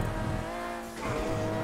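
A car engine in GTA 5 drones steadily, briefly drops as the car brakes, then surges again, close and continuous with no talking.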